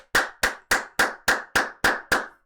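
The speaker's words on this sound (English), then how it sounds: "Gonna give us some big claps there." Eight sharp, evenly spaced hand claps ring out loud and close in a steady rhythm, each snapping crisply before a short decay, with no voices around them.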